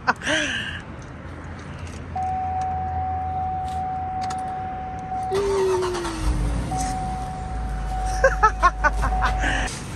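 A car engine cranks and catches after a repair, turning over near the listener with a steady idle hum and a couple of revving bursts, alongside a sustained electronic tone; no one speaks.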